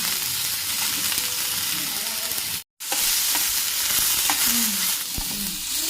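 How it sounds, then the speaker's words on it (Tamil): Onions and tamarind sauté in a pan for tomato chutney, a close, continuous sizzle broken by stirring scrapes and a brief cut to silence midway. "வெங்காயம் நல்லா வதங்கட்டும்."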